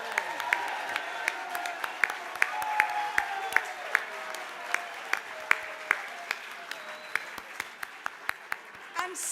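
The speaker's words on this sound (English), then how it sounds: "can we give a round of applause to all of our winners this evening?" Audience at an evening curry restaurant awards ceremony applauding the winners, a steady crowd clapping with distinct nearby claps punctuating it and faint murmuring voices underneath.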